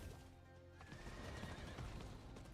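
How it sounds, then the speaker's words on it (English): A horse in the video game Diablo IV neighs in a drawn-out whinny over the clatter of hooves, with game sounds faintly behind it. "Ride my horse around in town"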